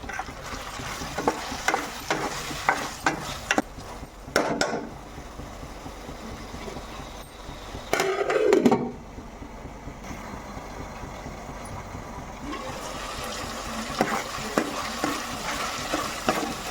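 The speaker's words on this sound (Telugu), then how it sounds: "రొయ్యలు ఉల్లిపాయలు అయితే దగ్గరికి మగ్గిపోయాయండి." Raw prawns and onion pieces frying together in a pan for a village-style curry with raw cashews, a steady close sizzle with bursts of stirring and scraping, a louder burst midway, and no voices.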